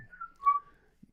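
A person whistles the opening melody of a song, a few clear, sliding tones, close and quiet, with no talking.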